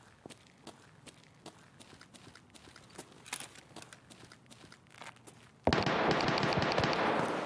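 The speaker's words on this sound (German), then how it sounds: "Oh, hier kommen Schüsse näher." Gunfire in Escape From Tarkov: a string of sharp, irregular cracks and thuds at moderate distance, then a sudden loud, sustained roar of noise that takes over near the end.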